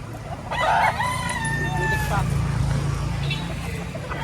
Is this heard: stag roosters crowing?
yes